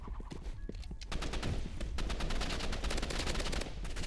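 Rapid, close gunfire crackles in the video game Rivals, with a quick run of sharp shots rattling continuously for several seconds.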